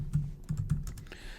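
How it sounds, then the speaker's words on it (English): Typing on a computer keyboard while posting in Microsoft Teams, a quick run of soft, close key clicks in an irregular rhythm, with no talking. "I'm typing."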